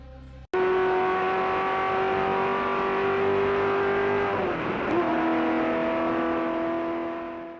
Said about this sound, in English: The brutal sound of the V8 made it even more spectacular, with a roar worthy of a true race car.